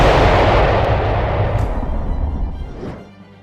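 A deep, booming explosion effect meant to portray the Big Bang, starting loud with a heavy low rumble and slowly decaying over a few seconds, with no voices.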